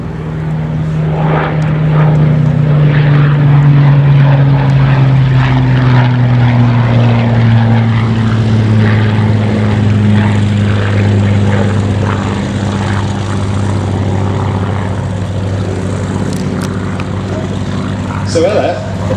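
Spitfire propeller aircraft flying a display at an air show, its engine roar loud and sustained with pitch sliding downward as it passes, and a voice talking over it.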